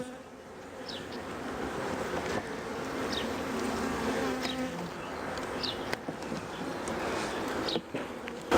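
Dense, steady buzzing from a colony of honey bees fills an open hive during an inspection, with single bees whining past close by.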